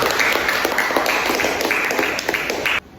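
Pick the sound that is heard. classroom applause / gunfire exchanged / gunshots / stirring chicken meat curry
classroom applause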